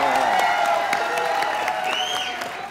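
A studio audience at a cricket talk show claps and cheers, the applause fading gradually, with musical tones and a voice mixed in underneath.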